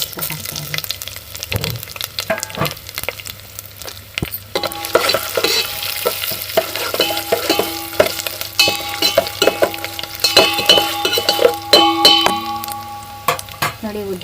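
Chilies and spices fry in a pan for onion upma, a steady sizzle broken by repeated spatula scrapes and clinks against the pan, with no voices.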